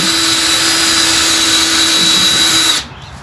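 A power drill whines loudly and steadily with a long auger bit, boring continuously at close range for nearly three seconds before cutting off abruptly.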